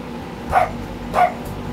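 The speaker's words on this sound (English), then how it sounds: "Oh, there goes the dog." Dog barking twice indoors in the background, two short evenly spaced woofs at moderate volume with no talking.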